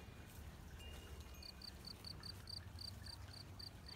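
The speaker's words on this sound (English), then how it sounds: "I hear a cricket." Cricket chirping in an overgrown backyard garden with purple flowers, a steady series of short, evenly spaced high chirps that rises out of a soft outdoor ambience partway through and then repeats.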